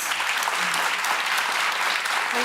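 Studio audience on a daytime talk show breaks into sustained applause, a dense even wash of clapping that stays loud for the whole stretch, with no speech over it.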